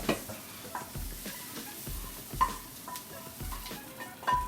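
Food cooks in a pan with a soft, continuous sizzle, broken by repeated scraping and knocking as it is stirred and moved around, with a few sharper clinks standing out.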